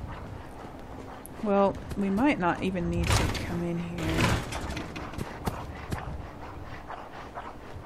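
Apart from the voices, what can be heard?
dogs barking upstairs in the video game Fallout 4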